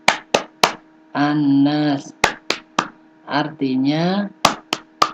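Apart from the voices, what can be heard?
children's rhythmic hand clapping chant (Tepuk An-Nas)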